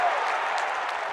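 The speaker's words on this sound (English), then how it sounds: "Round of applause, everyone." Short, fairly faint wash of audience applause at a live comedy show, steady clapping with crowd noise.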